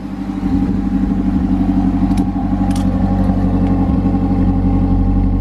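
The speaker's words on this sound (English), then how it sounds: "It's making some like popping sounds in the back." A Mazdaspeed 3 fitted with an ATP downpipe and intake idles loudly in a steady, deep rumble close by, with a couple of faint pops from the exhaust.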